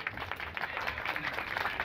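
Audience applause at a Karagöz and Hacivat shadow puppet show, a steady mid-level patter of many hands clapping throughout.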